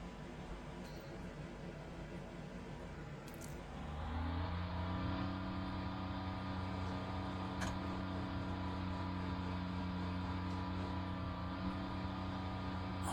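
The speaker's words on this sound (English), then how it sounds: "he's got a proper engine that starts and goes." A hypercar engine in the racing game Le Mans Ultimate fires up partway through and settles into a loud, steady, droning rev, continuous and close with no talking.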